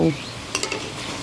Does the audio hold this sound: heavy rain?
no